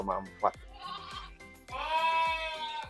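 A fat-tailed domba gibas ram bleats close by in a farm pen, with a short call early on and a longer, strongly voiced bleat in the second half, mixed with speech.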